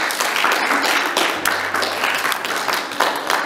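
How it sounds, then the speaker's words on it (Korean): Steady applause from a church congregation celebrating graduating students, dense clapping filling the room evenly from start to finish with no speech over it. "우리 친구들한테 박수 한번 하실까요?"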